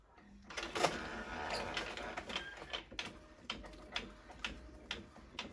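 Printer feeding and printing on 220 GSM cardstock: a busy mechanical whir with rhythmic ticking and clacking of rollers, moderately quiet and close, with no speech.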